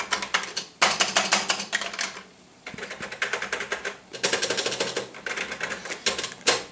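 Keys clatter rapidly on a TheC64 Maxi keyboard, a replica home-computer keyboard, in close, steady bursts of typing separated by short pauses.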